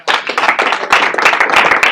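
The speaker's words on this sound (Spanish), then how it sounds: "Un aplauso a Cristo." A church congregation claps loudly and close during a service, a fast dense burst of hand claps with a slightly rhythmic pulse, steady for the whole moment.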